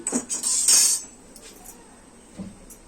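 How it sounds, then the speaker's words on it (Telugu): A metal spoon clinks and scrapes against a pot of Nellore-style small fish curry with mango pieces, a quick burst of clattering stirring followed by quieter occasional taps. "కర్రీని కలుపుకోవాలి, గెంటి పెట్టకూడదు."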